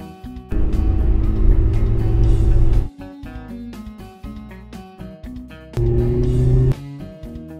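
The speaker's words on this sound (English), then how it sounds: "Taxi." A taxi engine hums and revs in two loud sustained bursts. Between them come quieter stretches of short clicks and tonal blips.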